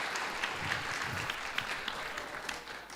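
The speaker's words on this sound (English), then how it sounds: "Please give one more big applause to our fantastic speakers." Applause for the speakers at an international academic conference and colloquium, a steady, moderately quiet wash of clapping across the hall with no voices over it.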